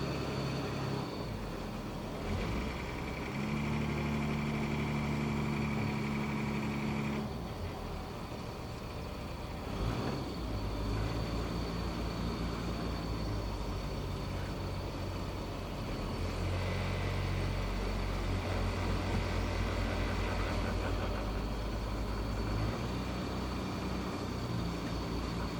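A boat's engine throttles up as the vessel rotates on a Mexican cruise, a loud continuous low rumble with shifting tonal drones that holds steady throughout, no talk.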